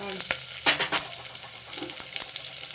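Onions fry in oil for kaal gojju, a close crackling sizzle broken by a few stirring clacks and bursts of spatter over a short stretch.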